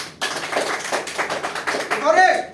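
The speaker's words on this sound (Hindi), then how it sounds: "प्लीज जोरदार ताली" Dense clapping from a crowd, a steady patter of many hands, with a voice rising over it at the end.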